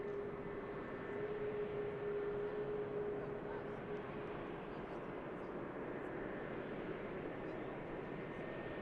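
An Airbus A380 airliner taxiing at Manchester Airport, a steady distant jet engine drone with a thin whining tone, held at an even level beneath a faint murmur.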